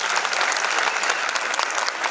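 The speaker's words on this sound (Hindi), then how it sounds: "आप पहले उनका ताली बजा के अभिनंदन कर" An audience applauds the Spreading Smiles team at a talent honours ceremony in Indore, a steady, dense wash of clapping from many hands that fills the whole moment without pause.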